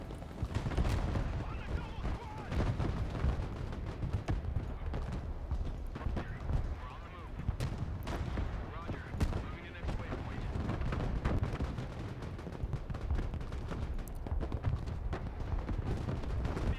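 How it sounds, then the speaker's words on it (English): Dense, continuous artillery fire from the Broken Arrow video game, a sustained roar of overlapping booms and impacts filling the whole stretch with steady loudness and no clear pauses. "Whoa, that is a lot of artillery."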